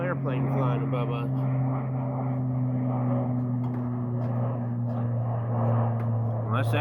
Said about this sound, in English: Little airplane flying above us.